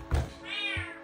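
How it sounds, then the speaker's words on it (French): A domestic cat meows once close by indoors, a drawn-out rising and falling cry after a soft thump, with a steady background hum. "C'est mon chat."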